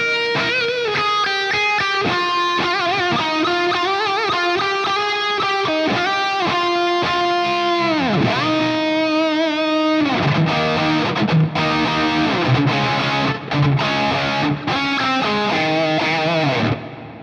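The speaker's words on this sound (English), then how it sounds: "sometimes you want reverb on your leads." A distorted electric guitar through a Revv Generator 120 MKIII amp plays a sustained, bending lead line with a lush reverb tail, loud and up front with no talking.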